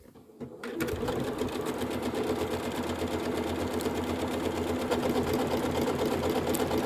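Janome sewing machine stitching a wide zigzag at maximum width and long stitch length, a close, steady mechanical whirring hum that starts after a brief quiet moment and runs on evenly.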